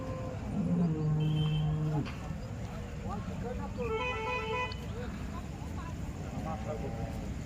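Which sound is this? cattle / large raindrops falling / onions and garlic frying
cattle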